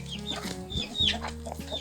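Farm chickens cluck in short, repeated bursts near the recorder, with brief higher squawks scattered through the sounds.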